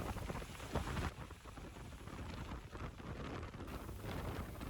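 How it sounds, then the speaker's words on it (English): Heavy rain in Fars province, Iran, falls as a dense, steady hiss of broadband noise, with gusty wind buffeting the microphone and no voices. "Iran has experiencing heavy rain in Fars and Bushehr provinces for nearly a week."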